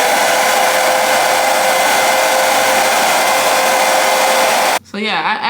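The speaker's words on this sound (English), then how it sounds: "I'm gonna blow dry it to make sure it's like stuck in this place" A hair dryer blows steadily and loudly on a wig's freshly styled baby hairs, a continuous airy roar that cuts out abruptly near the end.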